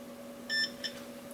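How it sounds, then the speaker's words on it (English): A radiation detector gives a short electronic beep near a radioactive Canon FD lens, followed by a fainter, briefer second beep over a low steady hum. "Okay, stop beeping."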